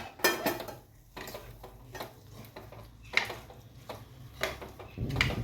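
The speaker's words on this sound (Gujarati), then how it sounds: "હવે આ વ્હાઈટ સોસમાં આપણું આ કોર્ન પાલક મિક્સર જે છે એ નાખી દેવાનું છે." A spoon stirs corn and spinach filling into white sauce in a pan, making soft, intermittent scrapes and light clinks, faint and close, with no talking.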